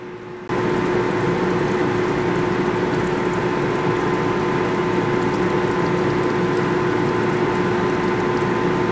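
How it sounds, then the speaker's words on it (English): Coolant pours steadily onto a solid 8-inch steel roller stub shaft workpiece in a Lion lathe, a loud continuous rushing wash with a steady mechanical hum beneath, starting abruptly after a brief quiet moment and running without pause. "right now I'm just running the coolant on it to try to cool it all off"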